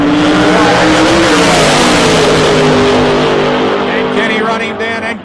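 Two drag racing cars at an ANDRA event launch and roar down the strip, very loud and sustained before easing off at the end, with a commentator talking over them.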